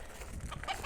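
Hens clucking near a backyard henhouse, a few soft, close clucks and short calls scattered across a brief, quiet moment.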